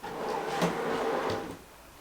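A newly installed wooden drawer in a van kitchen slides along its runners with a rough, scraping rumble, then settles into a faint knock and quiet.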